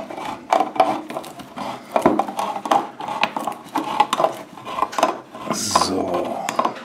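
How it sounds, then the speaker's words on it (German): Close metallic clinking and scraping as a tin can of Sonnen Bassermann chili con carne is worked open, with a run of short taps and a brief rasping burst near the end. "ich werde jetzt diese Dose hier aufmachen"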